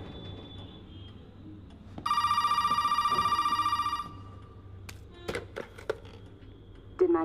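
An old telephone rings in the survival horror game Resident Evil 7, one sustained loud bell burst of about two seconds, followed by quieter scattered clicks and thuds.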